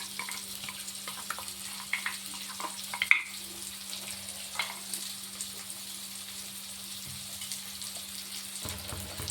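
Ground masala paste dropped into a hot pan for dhaba-style matar paneer, sizzling and frying steadily at moderate volume with faint stirring scrapes and a steady low hum underneath, no voices.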